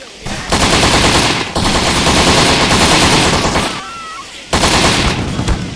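Sustained bursts of machine gun fire from the video game Postal III, loud and dense, in three long volleys separated by brief pauses.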